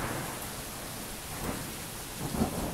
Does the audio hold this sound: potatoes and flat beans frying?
no